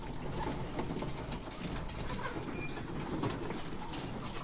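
Soft cooing and muffled stirring of hens inside a mobile coop, steady low rustle throughout with no talking.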